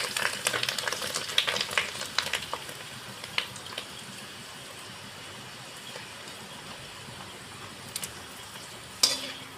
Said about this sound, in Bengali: আরও আমি কিছুটা ভেজে নেবো